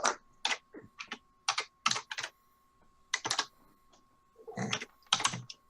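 Bursts of clicky keystrokes on a computer keyboard, typed in short quick runs with pauses between them, close and fairly quiet, while a dice-rolling command is entered into Roll20 with no one talking.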